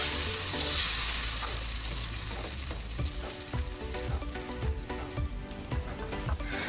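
Dosa batter sizzles and crackles on a hot griddle, starting as a broad hiss that settles into a steadier frying sizzle with small pops and scraping as the batter is spread, close and without talk.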